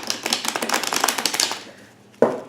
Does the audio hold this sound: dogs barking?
no